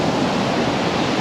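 Waterfall spilling beneath a suspension bridge at a via ferrata park in Québec: a steady, dense roar of falling water, close and continuous with no voices.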